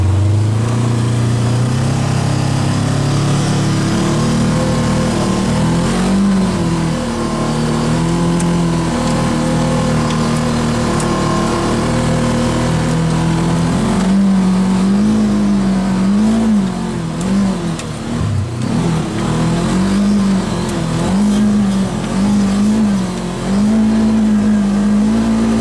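A 2018 Polaris RZR 900 side-by-side runs in 4-wheel low, its engine droning loud and steady close by, with the pitch rising and falling as it revs through the drive, and no talk over it.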